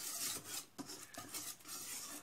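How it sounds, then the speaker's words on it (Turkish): A whisk scrapes through a flour-and-water batter for Ramadan pide in quick, uneven strokes, giving a close, gritty stirring sound, with no talking. "Oda sıcaklığındaki suyla unumuzu karıştırıyoruz önce. Şöyle bir çırpıyoruz pürüzsüz bir kıvam alana kadar."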